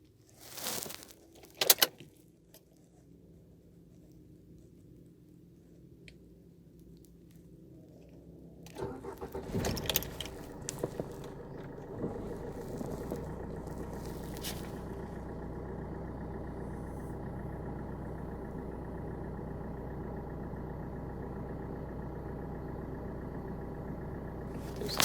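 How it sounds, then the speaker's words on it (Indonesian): A Suzuki Ertiga with a diesel turbo VGT engine is heard after a few clicks and key jangles. It cranks and starts, then settles into a steady, fairly quiet idle heard from inside the cabin with no talk. "sekarang kita nyalain mesinnya"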